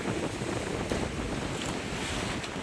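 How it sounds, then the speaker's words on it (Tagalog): Steady roar of rough surf and wind across open water, continuous and loud, with heavy wave wash and wind buffeting the microphone throughout. "Lalaki ng alon."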